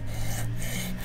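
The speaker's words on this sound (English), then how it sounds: "I am gonna try and put a new bevel on it. So I'll start with a coarser grit" A tool blade is rubbed on coarse grit sandpaper to grind a new bevel, giving a continuous, close, gritty rasping with slight back-and-forth swells.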